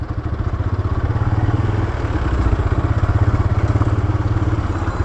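A motorcycle rides over a broken, sandy road, its engine putting out a loud, steady pulsing drone with rattling clatter from the rough surface, close and continuous.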